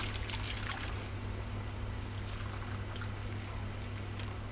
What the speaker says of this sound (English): 3 cups of hot water to dilute this whole